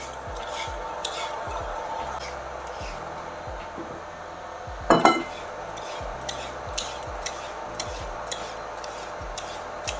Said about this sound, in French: je récupère mes carottes et puis là on va venir les éplucher